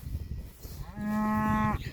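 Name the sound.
cows mooing in a field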